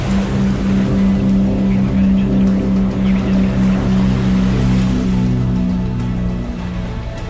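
Airliner jet engines roar steadily in Microsoft Flight Simulator after engine start, a loud continuous low drone with a strong tonal hum, holding throughout and fading slightly near the end, with no talk.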